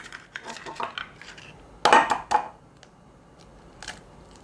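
Eggs cracked into a bowl of mashed bananas for Bisquick banana bread, giving a few soft taps and one sharp clink of shell against the bowl, close and brief in a quiet kitchen.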